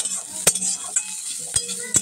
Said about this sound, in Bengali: এখানে নিম বেগুন একটু ভাজছি